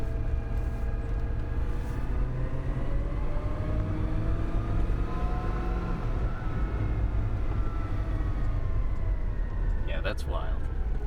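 A 2005 Toyota Land Cruiser truck with a regeared transfer case rumbles loudly nearby, its engine pitch climbing and dropping as it revs up through the gears, with a brief voice near the end.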